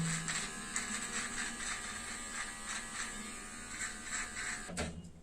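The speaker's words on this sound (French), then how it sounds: "Avec la tondeuse de finition." Electric finishing trimmer buzzing steadily while trimming hair around the sideburns and hairline during a self-haircut, a close, continuous high-pitched hum that cuts off sharply near the end.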